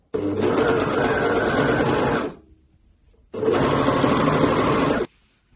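Sewing machine stitching the side seam of a t-shirt, two loud close bursts of rapid steady stitching of about two seconds each, separated by a short silence.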